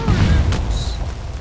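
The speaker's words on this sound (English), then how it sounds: "Explosions!" A loud explosion in the video game Conan Exiles during a base raid, one heavy boom at the start that rumbles and fades over about a second.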